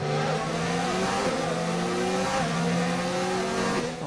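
F1 2019 race cars accelerating at Monaco in the video game, a loud, continuous multi-engine whine with rising and shifting pitch and faint tire squeal, steady throughout with no talk.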